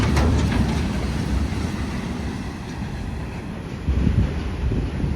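A freight train of box wagons hauled by two WAG7 electric locomotives rumbles past toward Mangalore, a continuous heavy low roar with faint wheel clatter and wind buffeting the microphone, steady and fairly near throughout.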